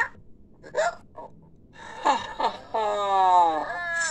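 An animated cartoon character hiccups, with several sharp, short voiced jolts followed by a longer wavering, moaning vocal sound, close and fairly loud.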